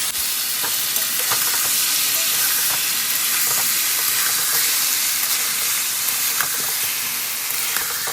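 Marinated raw jackfruit frying in a wok with tomatoes, a steady loud sizzle and hiss running throughout with faint scattered crackles, no talking.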